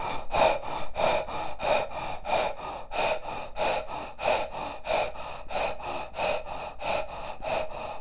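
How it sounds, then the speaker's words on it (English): Round-mouth self-care breathing, with steady, even inhales and exhales through a circled mouth, about a dozen rhythmic breaths repeating closely in a regular pulse. "We call this a self-care breath. You are forming a circle with your mouth."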